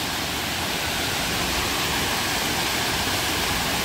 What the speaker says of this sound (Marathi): फायनली गाईज आपण वॉटरफॉलवर तुम्ही बघू शकता वॉटरफॉल आहे.